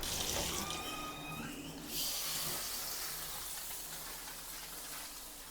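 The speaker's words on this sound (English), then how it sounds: "I'm going to do is actually turn on the shower head again and use this" A handheld shower head sprays water in a steady hiss while rinsing a bathroom, briefly shifting in tone as the spray moves across surfaces. No one speaks.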